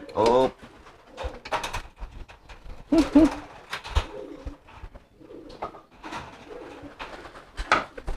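Pigeons coo repeatedly in soft, throaty phrases, with a voice speaking intermittently between and over the calls.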